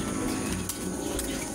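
Racing pigeons coo and rustle in a dense, steady, fairly loud mix while flying overhead and circling to land, with faint wingbeat-like bursts and no talk.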